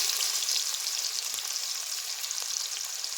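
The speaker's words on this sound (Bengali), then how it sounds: "আমাদের তেল গরম হয়ে গেছে আমরা এর মধ্যে ফার্স্টেই পেঁয়াজ কুচি দিয়ে দেবো" Chopped onion sizzling in hot oil in a home kitchen while chicken samosa filling is being made, a steady bright crackling hiss that stays loud and even throughout, with no voices.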